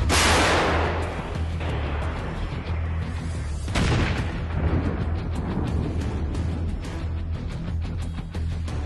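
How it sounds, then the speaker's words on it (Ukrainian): A Krab 155 mm self-propelled howitzer blast opens the clip, followed by a second deep boom and a long rumbling echo fading outdoors. "Постріл!"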